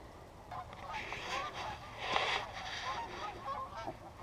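Geese honk along a river, a steady chorus of overlapping calls at a moderate distance with no talking.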